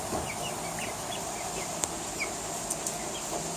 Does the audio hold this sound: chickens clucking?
yes